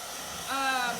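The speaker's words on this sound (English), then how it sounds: "Get this blow dryer going." A steady broadband whoosh of a blow dryer, growing louder and stronger about halfway through as the motor's hum rises, with no voices.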